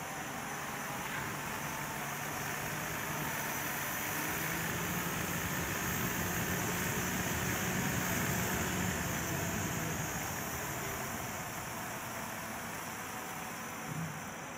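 A small DC motor under transistor speed control spins up gradually, a steady whirring hum holding loud and continuous with a slight rise in intensity as its speed increases.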